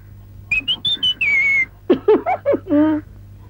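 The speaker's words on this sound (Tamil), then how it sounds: "நீங்க விசில் அடிக்கலாம்." A person whistles a short tune, a few quick high notes followed by a longer falling phrase, then a second run of lower bouncing notes, close and clear over a faint steady hum.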